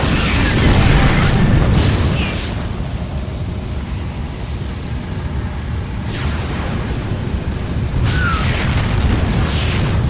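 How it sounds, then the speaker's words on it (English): The Protoss Purifier firing in StarCraft 2 sets off a heavy rumbling roar that swells loud, then settles into a sustained low rush, with a couple of sharp bursts cutting through. "The Purifier is about to fire."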